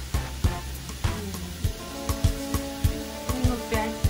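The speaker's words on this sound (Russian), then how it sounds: "Сколько будет жариться?" Food frying in a pan gives a steady sizzle with a busy crackle and regular sharp taps or pops throughout, heard close with no talking.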